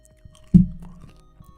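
A single loud crunch of teeth biting into crunchy peanuts, close up, followed by softer chewing that fades over the next second.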